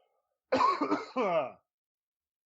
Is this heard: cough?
yes